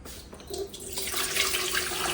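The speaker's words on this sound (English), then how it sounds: "So we will now just pour the water" Water splashes and streams steadily into a bargain generic water distiller, a hissing pour that starts after a short pause and grows fuller and louder to the end.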